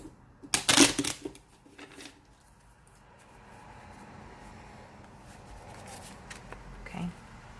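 Tarot cards riffle and slap together in a quick burst near the start, followed by softer handling and faint rustling.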